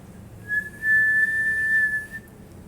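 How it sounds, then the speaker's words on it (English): A single loud, steady whistle holds one clear high pitch for over a second, then fades, with faint background noise around it. "awakened early the next morning by a loud whistle"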